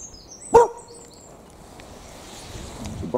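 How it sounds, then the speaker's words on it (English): A dog gives a single sharp bark, close and loud, followed by quiet outdoor ambience and faint rustling. "It's a barky dog."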